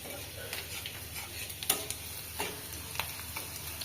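Bay leaves and cumin seeds fry in hot oil in a village kitchen, a crisp, crackling sizzle with irregular pops and sputters over a steady hiss.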